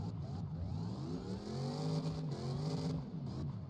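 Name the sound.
car engine revving, competition setup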